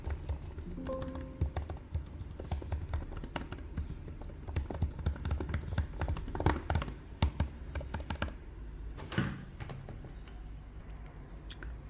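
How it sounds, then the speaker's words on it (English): Typing on the keyboard of a Lenovo ThinkBook Plus Gen 3 dual-screen laptop: a dense, steady run of quick soft key clicks close up, with no talking over it. "the keyboard is fine. It's really like fine. Let me show you how it sounds as well."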